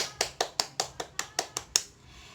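Classroom of sixth-grade children clapping for a group in nine sharp, evenly spaced claps, fairly close, fading after the last one.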